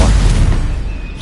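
Incendio fire spell cast in Hogwarts Legacy, a loud, close whooshing burst of flame that roars at once and then fades over about a second.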